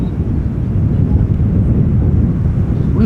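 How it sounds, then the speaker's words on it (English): ITA Airways C Series airliner passing over Amsterdam Schiphol and the Amsterdam forest, a steady broadband jet roar, moderately loud and continuous, with some wind noise. "C Series, ITA Airways. Flight 120 arriving from Milan, flying over Amsterdam Schiphol"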